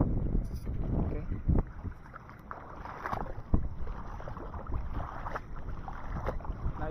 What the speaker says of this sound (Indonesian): anginnya cukup besar